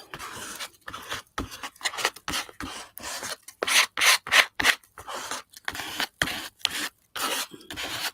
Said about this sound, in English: this is why I wanted the stars and everything dry, so that I could do all this scraping